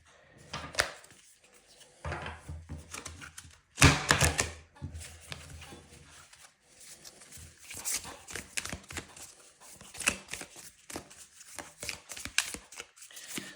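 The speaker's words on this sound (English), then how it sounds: "So let's shuffle this deck." A deck of tarot cards is shuffled by hand in quiet, irregular bursts of riffles, taps and soft slaps, close and fairly faint, with brief pauses between handfuls.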